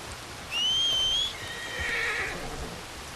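A horse in the video game Red Dead Redemption 2 lets out a single clear whinny, close and fairly loud, followed by a softer snorting neigh, with a faint bed of rain behind.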